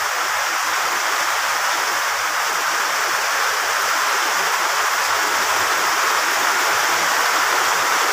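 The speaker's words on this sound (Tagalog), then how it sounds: "talagang malakas ang ulan" Heavy typhoon rain pours down outside a house as a dense, constant roar of broadband hiss, loud and unbroken, with no voices heard.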